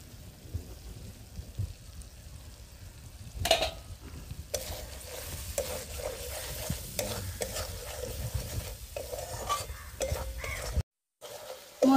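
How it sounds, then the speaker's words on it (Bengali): Special crab masala spices sizzle in hot oil while being stirred and sautéed, giving a soft crackling fry broken by scraping stirring strokes and a few louder knocks, with a brief silent gap near the end. "মশলাগুলো ভালো করে কষিয়ে নিয়েছি।"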